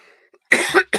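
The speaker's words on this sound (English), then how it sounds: "I got a cough again" A man coughs close up in a few harsh bursts, a short hacking pair followed by another cough after a brief gap, with a quiet room behind.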